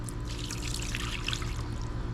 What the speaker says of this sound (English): I'll throw some water on them to show you guys what they look like